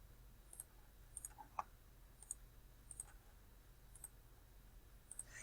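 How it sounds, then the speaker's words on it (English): A computer mouse gives a series of faint, sharp clicks spaced irregularly about once a second over a quiet background hum. "So I need to click on both of those."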